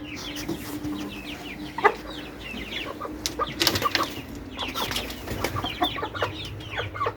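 Chickens cluck and chirp softly inside a winter coop in freezing weather, a busy scatter of small calls and a few wing flutters over a low steady hum.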